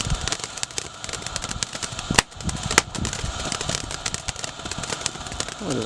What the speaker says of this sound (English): Oh, there's some crackling stars.